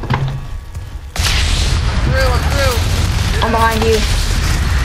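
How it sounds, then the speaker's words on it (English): Grenade blast in the co-op shooter F.E.A.R. 3, a loud broadband boom at about one second followed by a dense rumbling roar, with people talking over it. "let me throw the grenade"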